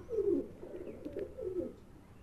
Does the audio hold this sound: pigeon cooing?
yes